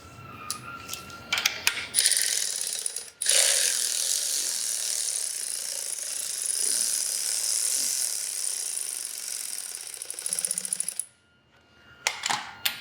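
A ratchet clicking rapidly and continuously as bolts are tightened on a Harley motorcycle, close and crisp, with a few short bursts of clicks before and after the long run.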